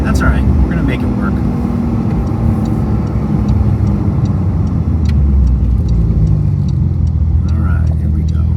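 A car rolls slowly into a muddy, gravelly parking lot at a cars-and-coffee meet in Marlborough, Connecticut, its engine and tires rumbling steadily and close, with light crunching and faint distant sounds above the drone.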